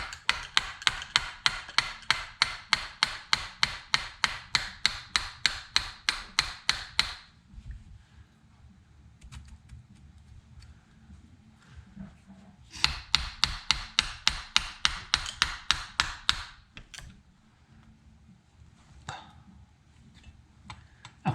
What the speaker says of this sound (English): Just a gentle little tap.